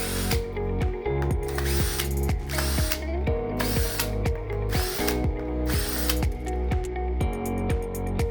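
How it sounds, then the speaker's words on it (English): Handheld drill with a Phillips head bit backing screws out of a keypad unit, a continuous close whirring drone with rhythmic ratcheting clicks repeating throughout, steady and loud. "We will be using a handheld drill to make things easier."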